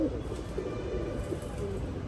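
A male pigeon coos steadily and close up, a low continuous throaty burble that runs through the whole short stretch without pause.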